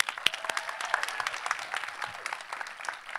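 Graduates of the 2020 and 2021 classes applauding at a university commencement: scattered, fairly faint clapping from a crowd, individual claps standing out in an uneven patter.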